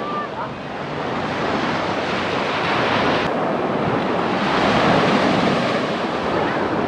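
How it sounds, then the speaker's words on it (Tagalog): Loud, steady crashing of strong surf on a beach on Boracay, a continuous broadband roar with wind buffeting the microphone throughout. "Malakas ang alon, tan, ha?"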